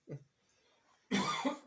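A single close cough bursts out after a brief vocal sound and a short pause, fairly loud and harsh, with no speech over it.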